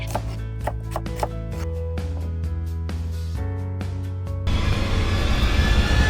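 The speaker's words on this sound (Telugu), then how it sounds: "ఆనియన్స్‌ని ఇలా సన్నగా తరిగి పెట్టుకోండి" A knife thinly slices onions on a board in a run of quick, crisp, close taps, then a denser, steady hiss takes over for the last second and a half.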